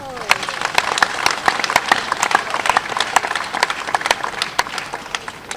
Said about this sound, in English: we should give a round of applause to Khadijat Lamidi Okono